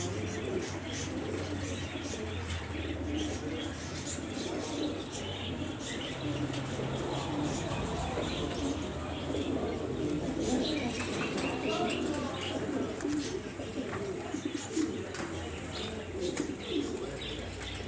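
Pigeons in an Alexandria loft keep up a soft, low cooing murmur with scattered chirps and faint wing movement, fairly quiet and continuous throughout.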